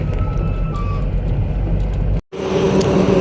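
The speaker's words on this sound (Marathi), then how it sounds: "आता आपण चालूया गाडी" A goods vehicle just filled with diesel at Panvel rolls off with a loud, close engine and road rumble. The sound cuts out briefly, then returns with a lighter hum.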